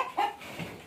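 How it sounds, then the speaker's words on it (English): A hen in a coop gives short, close squawks and clucks, two or three brief calls in under a second. "She's up there squawking."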